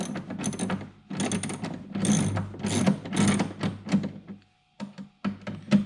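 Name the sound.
ratchet tightening ATV lounger storage mounts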